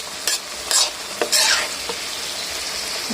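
Sun-dried pork frying in a hot pan, a steady close sizzle broken by several sharp scraping stirs of the utensil against the pan.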